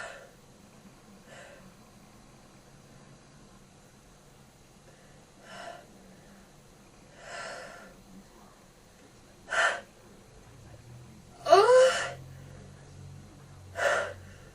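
Someone with a stuffy cold sniffling and breathing, then several sharp sneezes in close succession near the end, loud against a quiet room.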